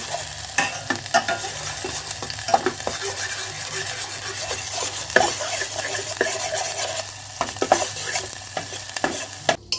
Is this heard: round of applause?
no